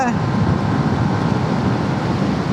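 A Yamaha XSR 155 motorcycle cruising in fourth gear gives a steady, loud engine drone mixed with rushing wind noise, continuous and unbroken throughout.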